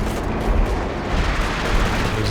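An artillery barrage in Company of Heroes 2 roars continuously with dense, overlapping thuds and rumbling blasts, a loud unbroken wall of battle noise.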